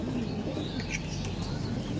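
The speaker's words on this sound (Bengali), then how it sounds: "পায়রাগুলো দেখুন সব খাবার খাচ্ছে" Pigeons in a breeding loft of Kaldom and Kalasabuj pigeons, feeding, with soft cooing and faint chirps under a steady low background hum.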